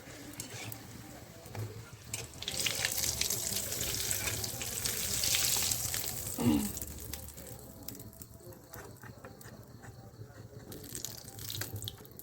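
Green pea kachori deep frying in a wok of hot oil, a steady close sizzle and crackle throughout, with a brief clatter midway and no talking.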